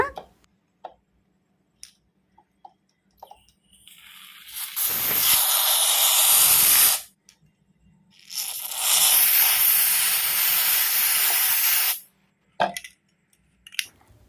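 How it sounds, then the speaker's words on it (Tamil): Two long hissing bursts of aerosol snow spray onto slime, each a few seconds, separated by a pause, with faint clicks and handling noises around them. "அது ஸ்ப்ரே பண்ணுற சவுண்டே சூப்பராக இருக்குல்ல."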